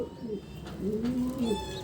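A pigeon coos at close range on a rooftop, giving a few soft, low, warbling calls in quick succession with no voices.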